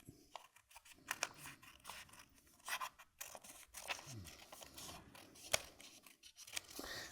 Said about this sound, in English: And then if you cut that out, cut down there like that.